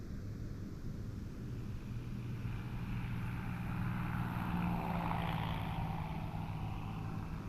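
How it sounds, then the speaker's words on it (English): A small white airplane drones overhead, its steady propeller engine hum swelling slightly louder midway as it passes at a distance, with no talking. "One is going to fly now, small airplane."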